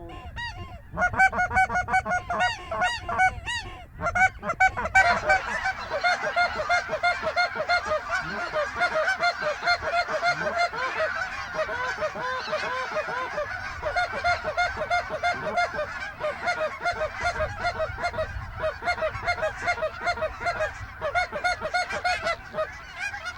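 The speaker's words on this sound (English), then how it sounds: "single bird coming out front" During a waterfowl hunt, goose calls honk continuously and loudly for over twenty seconds, a rapid rhythmic stream of calls, with faint background voices.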